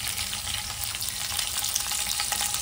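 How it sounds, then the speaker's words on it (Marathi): Garlic and green chili frying in hot oil in a pan, giving a dense, continuous, close sizzle with fine crackling throughout and no voices over it. "हे बघा लसूण टाकलंय. लसूण थोडस शिजल्यावरती स्नेहानी मिरची टाकली."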